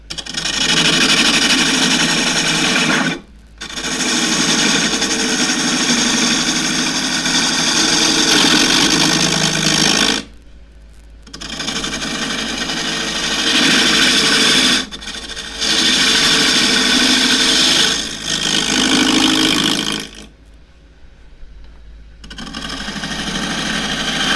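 Wood lathe turning a square dish at just under 900 RPM, loud continuous whirring and rough cutting scrape in long bursts broken by several brief stops, with no voice.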